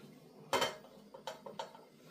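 A metal pan clatters down onto a stovetop with a sharp clang, followed by a few lighter knocks and scrapes as it settles, close and clear with no talking.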